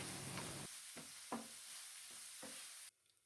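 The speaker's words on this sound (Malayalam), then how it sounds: "ഈ സവാള നന്നായിട്ടൊന്ന് വഴറ്റിയെടുക്കുക കേട്ടോ" Onions sautéed with salt in a pan for a soya bean masala fry, with a steady sizzle and a few spatula scrapes that stop abruptly near the end.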